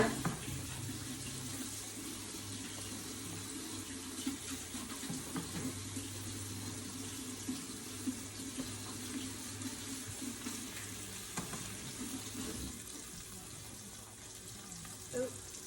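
Water runs from a kitchen tap in a steady, soft hiss while hands are washed beside a skillet, fairly quiet with faint clatter and a person talking.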